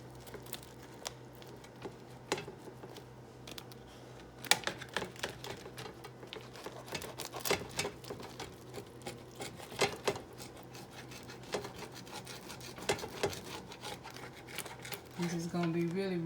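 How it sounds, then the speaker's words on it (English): A knife sawing down the middle of a long plain sandwich bun for a homemade meatball sub, quiet crumbly scraping strokes with soft crackles, close and faint. "I'm just going to go ahead and cut this"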